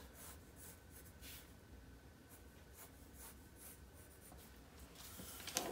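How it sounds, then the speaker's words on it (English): Pencil or marker drawing pattern lines on paper for a 1618-style man's doublet, faint scratchy strokes rubbing in short repeated sweeps, quiet and close. "And then I'll draw the tops."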